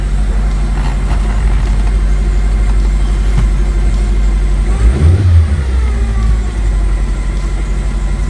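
A Hyundai Accent engine with a misfire idles close by, its low rumble uneven and lumpy, with a brief rise in revs midway before settling back.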